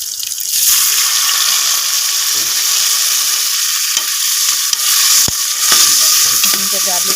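Ginger, garlic and green chilies fry with browned onions for dal chawal in a cooker, giving a loud, steady sizzle with bursts of stirring and scraping throughout and no talk.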